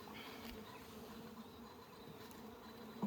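A steady, dense hum of many honeybees fills an open beehive, a continuous close drone with no talk and a small knock at the very end.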